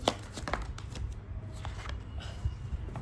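Tarot cards drawn and shuffled from a deck during a reading, a run of papery flicks and slides up close, steady and fairly busy, with no voices over them.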